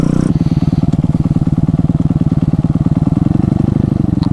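A Honda MSX motorcycle fitted with a swapped-in Zongshen 212cc engine runs close by in neutral, giving a loud, rapid, evenly pulsing putter with light mechanical clatter.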